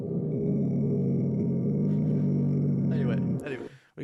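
Human voices imitate a baby's womb sound, a steady, droning, low, whooshing hum held for several seconds before it breaks off and ends in a short scrape of noise.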